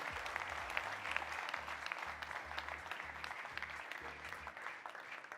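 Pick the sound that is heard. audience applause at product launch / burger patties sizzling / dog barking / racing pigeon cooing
audience applause at product launch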